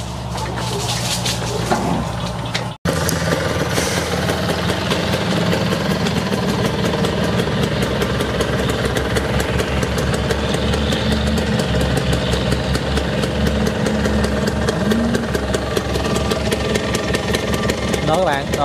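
A 2002 Suzuki Satria motorcycle, just kick-started after five months standing unused, idles steadily up close with a continuous mid-pitched engine drone after a brief cut near the start, with voices talking faintly over it.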